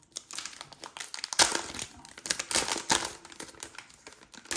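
Plastic bag from MacBook Air M2 packaging crinkling and rustling up close, with irregular bursts of crackling that grow busier as it is handled and folded.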